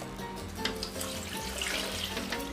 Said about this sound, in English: next I'm going to introduce my water